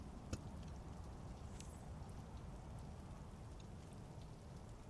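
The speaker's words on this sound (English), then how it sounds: "So it does look like we got a little rain." Simulated rain falls on a Cessna in Microsoft Flight Simulator 2024, parked at Vilnius, Lithuania, under live weather. It is a faint, soft, steady patter with a few light drop ticks near the start, and nothing else is heard.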